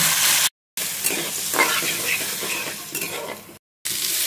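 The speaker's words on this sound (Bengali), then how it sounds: "এটাকে সুন্দর করে কষিয়ে নেব।" Ginger, chili paste and turmeric spice mix sautéing in a pan, a loud continuous sizzle with stirring scrapes, cut by two brief silent gaps.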